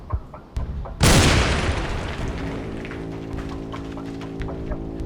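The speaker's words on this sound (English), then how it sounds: "Cannon fire!" A single heavy cannon boom sound effect bursts out suddenly, followed by a long rumbling decay, with faint knocks before it and a low hum lingering after.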